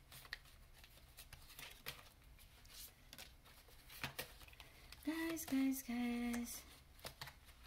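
Tarot cards are shuffled in soft, rapid riffling bursts close by, with a brief spoken word and a few short electronic tones near the end.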